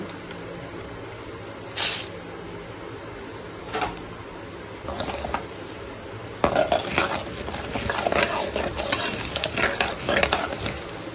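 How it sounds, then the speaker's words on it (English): Mustard seeds and urad dal spluttering and popping in hot cold-press oil, a steady sizzle with scattered sharp crackles and pops that grow busier toward the end, close and fairly quiet. "Once the mustard pops up, splutters, we could add 1 tablespoon of urud dal."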